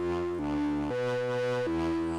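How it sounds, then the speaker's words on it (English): A crunchy distorted guitar sound made in FL Studio plays a few sustained notes in sequence, each chord held with gritty, buzzing harmonics and no talk. "this distortion area that I find is just more crunchy"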